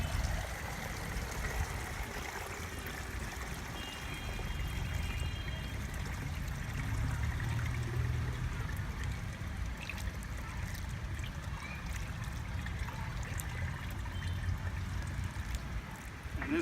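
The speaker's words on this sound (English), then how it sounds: "we're going to take this compost tea and slowly pour it through the burlap" Compost tea pouring slowly through burlap in a steady, continuous trickling flow, close and moderately loud, with no talking.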